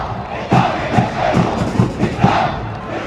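Al Ahly supporters chant loudly in a packed football stadium during an Egyptian league match, a dense roaring crowd with rhythmic shouted beats about every half second.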